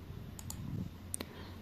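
A few sharp mouse or trackpad clicks while setting up Google Chrome on a Steam Deck, quiet and isolated, two quick pairs of clicks over a faint background hum.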